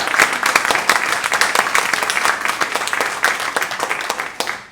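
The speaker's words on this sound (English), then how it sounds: "Can I have another round of applause" Applause from an audience at a community election forum, steady clapping throughout at close range, filling the room without talk.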